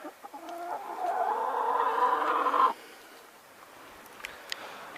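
Chickens and a rooster cluck while eating, a close burst of throaty clucking and squawks for a few seconds, then quieter scratching and faint pecking.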